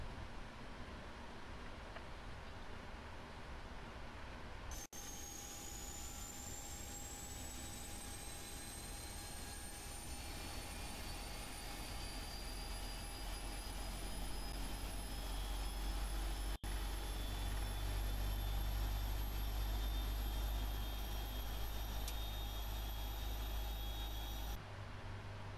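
A jet engine spooling up in a flight simulator, a rising whine that climbs steadily in pitch over many seconds while a low rumble builds beneath it, loud and continuous before cutting off near the end.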